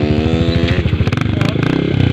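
A trail motorcycle engine runs steadily nearby, with a rapid throbbing idle that rises into brief revs and stays loud throughout.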